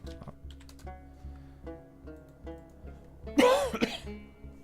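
A single sharp cough bursts out near the end, with quiet tapping and a low hum beforehand.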